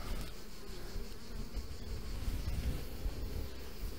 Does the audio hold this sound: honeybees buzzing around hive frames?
yes